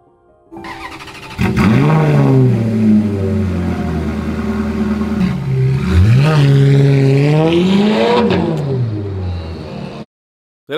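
A rebuilt, previously crashed Ferrari engine revving hard, rising and falling in pitch through several loud sustained pulls, close up, with no talking, then cutting off abruptly.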